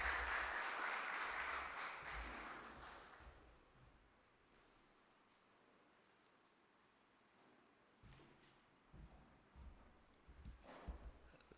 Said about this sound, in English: Join me, ladies and gentlemen, in welcoming to the podium our esteemed President, Professor Andrew Spencer.